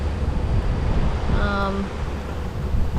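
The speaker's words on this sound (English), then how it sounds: "Wind's coming from behind us, as it has been the whole trip. And there's a little bit of a swell." Wind rushing over a sailboat running downwind with a light ocean swell, a steady broad roar of air and water, with a brief tonal whine in the middle.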